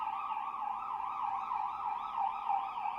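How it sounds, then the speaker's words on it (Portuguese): An ambulance siren wails in a steady rising and falling cycle, somewhat distant and moderately loud, with no voices present. "Ambulância."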